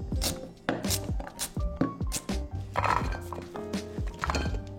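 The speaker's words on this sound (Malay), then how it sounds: "potong kasar bawang besar, 1 biji dah cukup." A knife chops onions on a cutting board in quick, uneven strokes, each producing a sharp knock, close and fairly loud.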